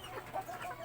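Pet hens cluck softly in a few short calls close by in a backyard, with no talk over them.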